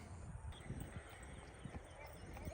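A mare on a sale outing in Madurai trots with steady hoof clip-clop, a fairly quick run of soft rhythmic beats that sit under people talking nearby.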